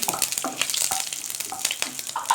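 Ten green chillies drop into a little hot oil for tempering, crackling and spitting in short, sharp bursts of sizzle with a stir or two, close and fairly loud.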